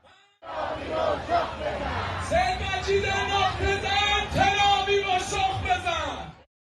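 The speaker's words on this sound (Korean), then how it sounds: "시민 수만 명이 국기를 흔들며 환호합니다" A huge crowd of tens of thousands of citizens waving flags cheer and shout at a military missile parade in central Tehran, a loud sustained roar of voices with rising and falling chants throughout.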